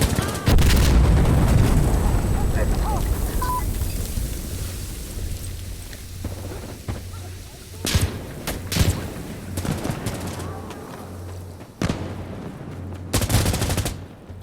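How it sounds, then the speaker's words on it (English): Gunfire in the video game Insurgency Sandstorm, with dense loud shots and bursts near the start, then scattered sharp cracks over a low rumble while players talk at times. "You wanna stop shooting me?"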